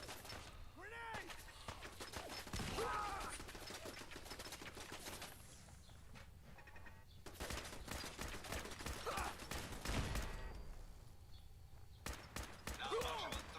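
Turrets in Fallout 4 firing rapid bursts of automatic gunfire, dense rattling volleys that come in waves with brief lulls, mixed with faint shouted voices and other combat noise.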